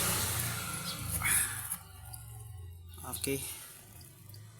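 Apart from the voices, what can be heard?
motor oil draining from a Mitsubishi Mirage G4 engine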